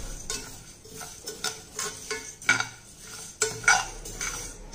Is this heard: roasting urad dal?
yes